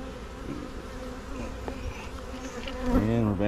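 Honey bees buzzing around an opened hive during a first spring inspection, a steady close hum with individual bees swelling louder as they fly past near the end.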